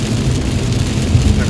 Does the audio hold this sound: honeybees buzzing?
no